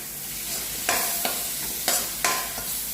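Gravy with ground paste sizzles steadily in a pan while a utensil scrapes and stirs through it in a few sharp strokes.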